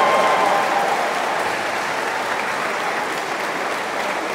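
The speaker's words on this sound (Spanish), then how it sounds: "Un aplauso, Pepe." Loud, sustained audience applause follows a Bible debate event, a thick, continuous crowd clapping that stays strong and slowly eases over a few seconds.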